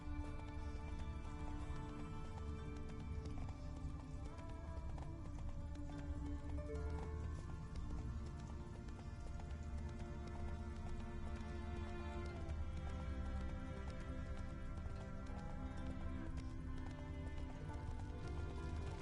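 Horse hooves galloping in the video game The Witcher 3: Wild Hunt, a constant rapid drumming that runs unbroken at even volume beneath a layer of steady background music.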